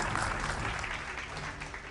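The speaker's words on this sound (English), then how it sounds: "A round of applause for that." Sustained applause from an awards ceremony audience, dense and steady clapping filling the room for the whole stretch with no voices over it.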